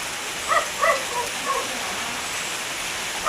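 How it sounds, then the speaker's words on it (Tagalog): Heavy rain pours down in a steady, even hiss, with a few short dog barks rising above it near the start and again at the very end. "Lakas ng ulan."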